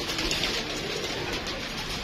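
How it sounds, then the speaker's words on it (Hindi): Many hungry pigeons coo in a dense, continuous murmur while being fed grain, a close flock with overlapping soft calls and no clear gaps. "ये देखें माशाल्लाह फुल भूखे हैं कबूतर इस टाइम"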